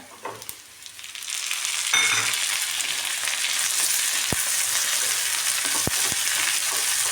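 Thin vertically sliced potato drops into a hot pan and fries: a quiet lead-in, then a loud, steady sizzle that continues throughout, broken by a few sharp spatula clicks.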